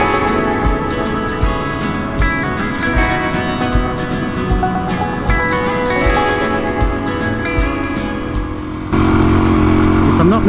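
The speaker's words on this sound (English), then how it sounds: "Back on the bike, into the soft stuff," A Suzuki DRZ400E dirt bike rides through soft sand on a beach track, its engine droning loudly and continuously with rhythmic pulsing, then surging louder near the end.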